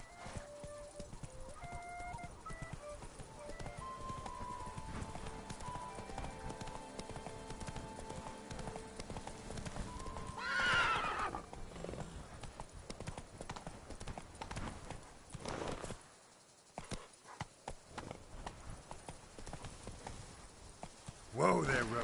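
Roach, a horse in a video game, trots with steady rhythmic hoof clip-clops over the whole stretch, with game music and occasional snorting, then halts near the end.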